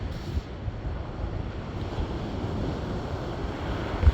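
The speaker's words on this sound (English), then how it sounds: "If ever you needed a beautiful day down at the beach, it was today." Waves wash onto a beach on a bright day in a steady, broad roar of surf mixed with wind buffeting the microphone, continuous and fairly loud with no voices.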